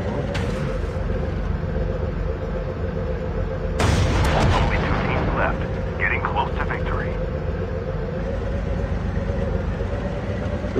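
A tank rumbling in the video game Call of Duty Mobile, with a steady low engine drone throughout and a loud blast of gunfire around the middle, while a person talks over it.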